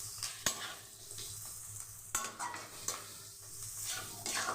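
Coarsely chopped onions fry in a hot pan for masala chicken, sizzling steadily up close while a utensil stirs and scrapes with occasional sharp knocks against the pan.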